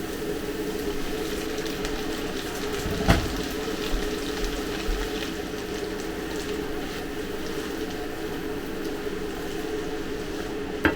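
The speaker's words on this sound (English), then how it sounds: "A little bit of water to help that stock cube." Steady flow of water running and splashing into a Ninja 26cm sauté pan over a stock cube for chilli con carne, continuous and close, with a couple of faint knocks.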